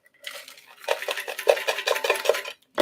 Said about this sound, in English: then you just stir this in